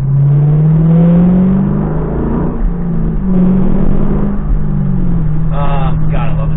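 A Chevrolet Camaro cruises on the road, its engine droning loudly and steadily with a few swells in revving, while a voice talks over it throughout.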